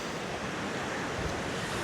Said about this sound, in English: And look at the waves.